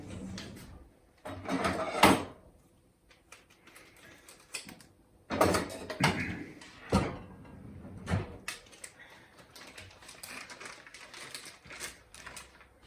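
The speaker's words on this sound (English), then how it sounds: "Let's go to my drawer and get my scissors out of the drawer." Several wooden drawer bumps and slides, a loud clatter early on and another burst midway, followed by smaller knocks and rummaging sounds close by.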